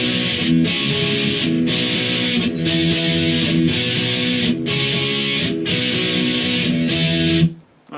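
Electric guitar plays a song's bridge slowly and loudly, repeated strummed chords in a steady rhythm with short gaps between them, ending abruptly, with no talk.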